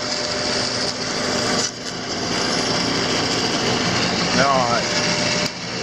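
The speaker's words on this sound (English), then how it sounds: "Turn the dust collector off." A dust collector runs steadily in a woodshop during log resawing, a loud continuous whooshing hum with brief dips, while a voice speaks briefly.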